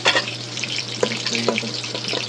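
Chicken lollipops frying in hot oil for a homestyle Malvani chicken dish, giving a steady close sizzle over a low hum, with a few soft clicks as the pieces are moved.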